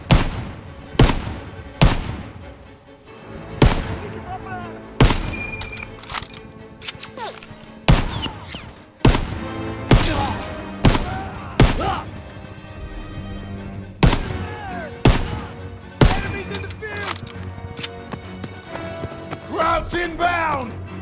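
Machine gun bursts and shelling in the WWII shooter Call of Duty: WWII, a string of sharp, loud impacts at irregular intervals over a continuous din of battle, with shouted voices mixed in.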